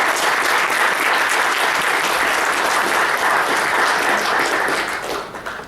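Audience applause at an evening event, welcoming and congratulating honor student speakers: dense, steady clapping from a large crowd, sustained throughout and tapering slightly at the very end.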